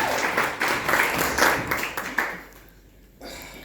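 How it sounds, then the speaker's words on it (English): Wedding guests applaud Shelley, a loud, dense round of clapping that tapers off after a couple of seconds into quieter room noise. "Round of applause for Shelley"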